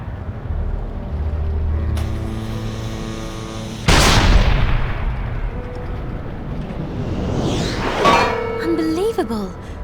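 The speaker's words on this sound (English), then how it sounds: "The cannonball fell back into the cannon." A cannon firing in the video game Haunted: a sudden sharp boom mid-clip that decays over several seconds, amid game sounds with steady tones and a later clattering sweep.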